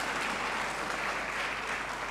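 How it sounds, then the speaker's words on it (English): A round of applause in a hall at a university congregation ceremony, steady, even clapping from a crowd, moderately distant and sustained throughout. "I think we should also give her a round of applause."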